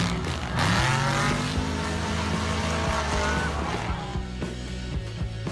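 A car tears along at speed, its engine revving hard with loud rising and falling whine and a rushing roar that stays close and continuous throughout.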